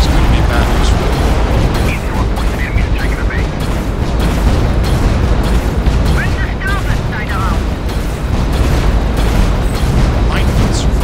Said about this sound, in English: Fire off the missiles.